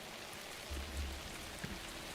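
Rain falling in the Alan Wake 2 video game, a steady soft hiss of drops on surfaces throughout, with a couple of faint low thumps partway through.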